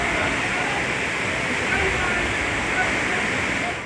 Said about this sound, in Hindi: गली में पानी की धार चल रही है।